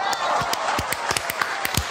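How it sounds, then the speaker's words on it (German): Scattered applause for a film festival organiser, individual sharp claps at an uneven rhythm over a background murmur, fairly close and brief. "Applaus, Applaus."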